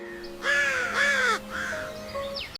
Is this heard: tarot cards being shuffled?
no